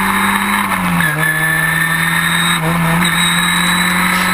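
Historic Formula Ford race cars roar at full throttle at Silverstone, engines held at a high, steady pitch with brief dips as gears change, loud and close throughout.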